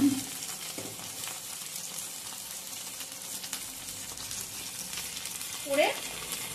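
Mutton pieces with tomato half-frying for a mutton curry, giving a steady soft sizzle throughout with a brief stir or clatter near the end.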